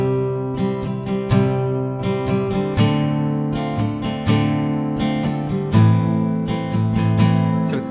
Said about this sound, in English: As far as a strum pattern with your right hand, it's going to sound like this.